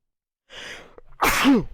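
One sharp sneeze up close, a breathy intake building into an explosive burst.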